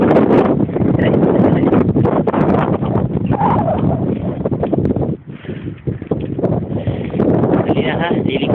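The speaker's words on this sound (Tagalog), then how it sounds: "napakalakas na hangin." Strong wind roars steadily into the microphone while a group rides bicycles toward a train station, a loud continuous buffeting rumble that dips briefly midway before returning.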